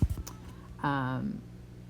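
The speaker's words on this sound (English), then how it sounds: "You can hear my cat in the background." A single short, drawn-out meow from a cat, heard after a few faint clicks, with quiet background around it.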